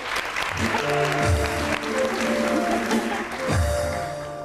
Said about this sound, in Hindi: भाई आलिया के लिए बहुत सारी तालियां जी।